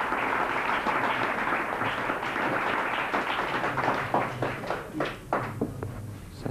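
A studio audience at a 1988 televised quiz show applauds, a dense wash of clapping that thins into sparser, distinct claps toward the end, fairly near and unaccompanied by talk.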